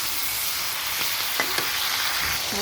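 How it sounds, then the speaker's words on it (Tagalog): Chicken sautés with onion in a pan, a continuous close sizzle with a few faint scrapes and taps from stirring, no voices. "Ngayon, lalagay na natin yung ating manok. Isasangkisa natin siya."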